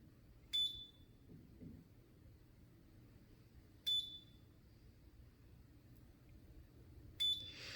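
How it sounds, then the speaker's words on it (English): Three short, high electronic beeps from a non-surgical face-lift treatment device, evenly spaced a few seconds apart, over a low steady background hum. "So you should just hold it for 3 beeps"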